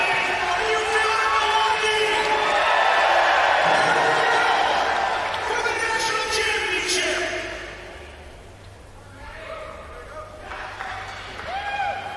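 Crowd at a STIHL Timbersports men's pro championship cheering and whooping loudly, with scattered claps, dying down toward the end as an announcer keeps talking over it.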